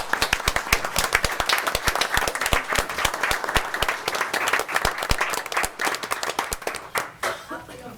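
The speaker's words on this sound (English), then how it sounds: "give her a round of applause" An audience at a Jones County, Georgia commissioners' meeting claps in a dense, lively burst of applause that fills the room for several seconds before thinning toward the end.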